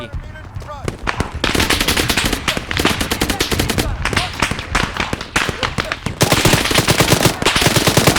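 Automatic weapons fire in the military video game Arma 3, with loud, dense machine-gun bursts rattling almost continuously and only brief gaps between volleys.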